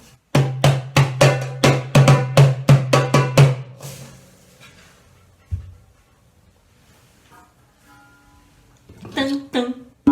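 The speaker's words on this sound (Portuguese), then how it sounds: "derbaque" A darbuka hand drum plays a quick run of about a dozen sharp, resonant strokes, then falls quiet; a few brief knocks and scrapes follow near the end.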